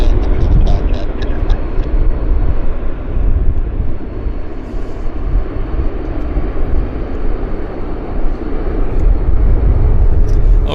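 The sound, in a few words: airplane landing at Vancouver airport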